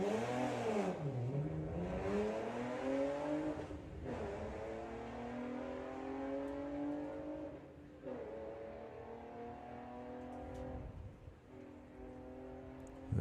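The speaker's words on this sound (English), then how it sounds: "we can hear John feathering the throttle at the stripe there" A Volkswagen drag race car at Santa Pod idles and is blipped on the throttle at the start line, its engine note rising and falling in repeated revs, loud and close throughout.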